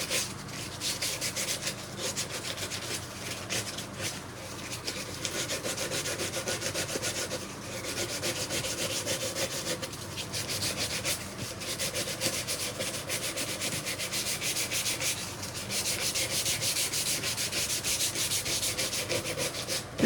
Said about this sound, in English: This is just really kind of rough shaping. I'm using probably 150 grit paper here